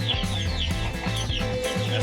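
A sick chicken with a hard crop makes raspy, snoring, cluck-like sounds that repeat continuously and close up.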